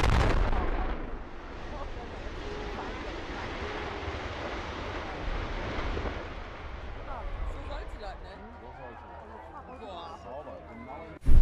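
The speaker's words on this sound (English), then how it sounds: "An apartment complex's demolition goes according to plan." Controlled demolition of an apartment complex building: a loud blast at the start, then a long rumbling roar of collapsing structure and debris that slowly fades, with voices over the tail and a sharp bump at the end.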